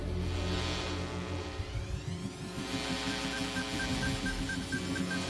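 Electrical power switches on in a cartoon flying machine, giving a steady mains-like hum with a low throbbing drone and rising whine, continuous and fairly faint, with no voices over it.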